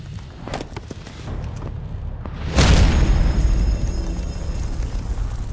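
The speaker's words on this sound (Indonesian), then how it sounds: "Sepertinya ini akan meledak." An explosion effect for a shattering sacred bell: a sudden booming burst about halfway through, with a broad rumbling roar that sustains and slowly fades, preceded by quieter rumbling and crackles.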